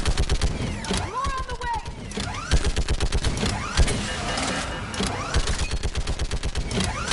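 Rapid gunfire in the Mass Effect video game, repeated bursts of automatic shots with whooshing and mechanical effects, loud and close, while a voice speaks briefly over the combat.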